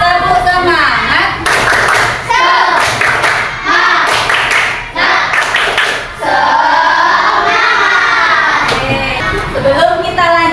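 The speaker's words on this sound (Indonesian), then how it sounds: "Bisa kita tepuk semangat dulu? Tepuk semangat." Primary school children in a grade six classroom doing a rhythmic 'tepuk semangat' clap chant, loud close bursts of synchronized clapping in patterned groups mixed with the children's shouted chanting voices.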